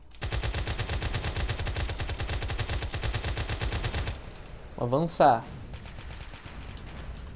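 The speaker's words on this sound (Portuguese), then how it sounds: "Tô ouvindo tiro aqui do outro lado." Rapid automatic gunfire from a GTA multiplayer battlefield match rattles in a fast, sustained burst for about four seconds, then cuts off, and someone speaks briefly afterward over quieter background game noise.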